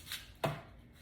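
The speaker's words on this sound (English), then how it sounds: "about to cut the tip of my celery and also my carrots" A knife chops through the tips of celery and carrots on a cutting board during juice prep, giving two sharp, close cuts: a light tap, then a firmer thud with no talk.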